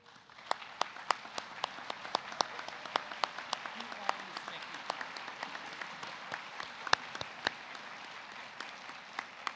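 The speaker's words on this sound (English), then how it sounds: "please stand and give them applause" Audience applause at an optometry college convocation ceremony, a steady wash of many hands clapping with sharp individual claps popping out, moderately distant and continuous throughout, with no talking.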